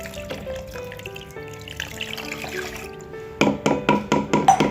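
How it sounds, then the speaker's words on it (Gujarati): Water is poured into a pot of boiled mixed dal, first as a soft running trickle, then as a burst of close, splashy glugs near the end, with no talking. "પછી અહીંયા અમે પાણી રેડીશું"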